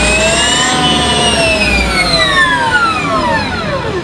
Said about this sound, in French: Écoutez-moi cette Harley Livewire.